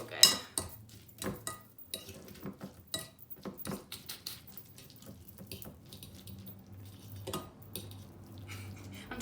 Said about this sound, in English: you're just gonna mix it all up